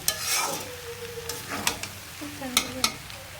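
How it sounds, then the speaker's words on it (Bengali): Stir-frying in oil for Chinese fried rice produces a close, lively sizzle with several sharp scrapes and tosses of a spatula against the pan in quick succession. "আর একটু তেল দিয়ে দিতেছি।"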